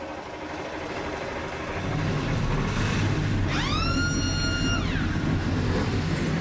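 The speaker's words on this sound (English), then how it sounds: "Engines are fired." Stock car race engines firing up for the Axalta 400 on a racetrack, a dense, loud engine rumble swelling in and holding steady, with a brief high rising-and-falling whistle over it.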